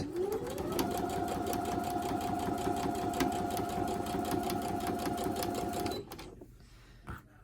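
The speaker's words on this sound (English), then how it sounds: "I'm going to start sewing, chain piece sewing my disappearing 4 patch" A sewing machine chain-piece sews a disappearing four-patch quilt block, running steadily and close for about six seconds with a rapid even stitch rhythm, then stopping, followed by a brief handling sound.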